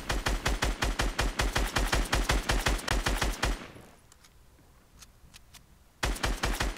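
Steady automatic gunfire in Fortnite, a fast, even stream of loud shots for several seconds, then a quiet gap with a few distant pops before the rapid firing resumes.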